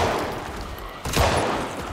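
Gunfire in the zombie survival game Project Zomboid, Last Stand mode: steady loud noise bursting into a sharp shot about a second in, with no talk over it.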